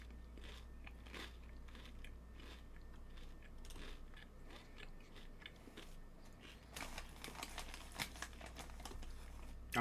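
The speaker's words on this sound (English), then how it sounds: "If you hear crunching, I'm crunching on some chips." Someone crunching potato chips close to the mic, a steady run of crisp bites and crackly chewing over a low background hum, with louder crunches near the end and no talking.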